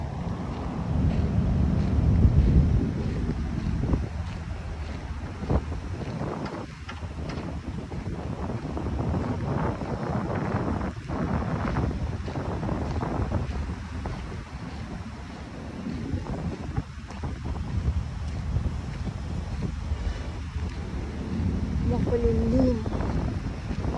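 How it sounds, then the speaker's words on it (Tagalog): Wind blowing along the Manila Bay shoreline, gusting and buffeting the microphone in low rumbling surges, with a voice talking over it and faint water and boat sounds in the background. "Buti na lang ay may hangin."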